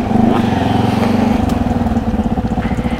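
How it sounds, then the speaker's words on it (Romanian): Enduro motorcycles, including KAYO, Beta, KTM and Husqvarna bikes, run on a dusty trail, heard as a steady buzzing engine drone with a pulsing, throbbing rhythm that keeps going throughout. No one speaks. "Mai erau niște motoare care s-auzeau."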